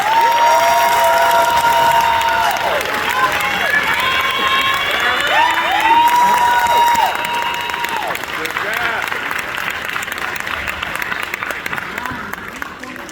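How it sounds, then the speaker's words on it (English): Audience applause for students at a school award ceremony: dense, sustained clapping from a large crowd, steady and loud for most of the span and tapering slightly toward the end, with a few voices and cheers mixed in. "Let's give these students a round of applause."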